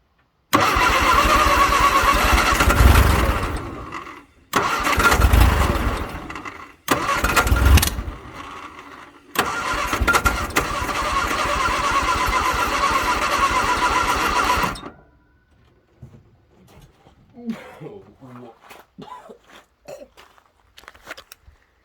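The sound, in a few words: 1962 Vauxhall Victor engine cranking and starting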